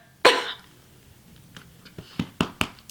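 One sharp, loud cough stands out, followed by a few softer throat sounds and smaller coughs spaced over the next couple of seconds, with no talking.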